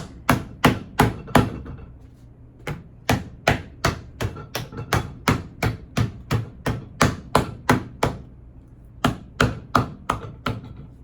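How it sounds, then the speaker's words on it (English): Steady, rapid hammer taps striking a Birkenstock sandal sole during repair, sharp and evenly spaced in quick runs with brief pauses between groups. "And hammer that sole on."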